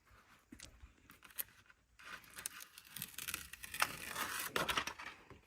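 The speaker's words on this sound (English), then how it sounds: "This grip tape is really sticky. All right, you ready? Peel the backing off of it." Sticky skateboard grip tape has its backing peeled away, giving quiet crackling and tearing rustles that grow louder and denser toward the end, up close.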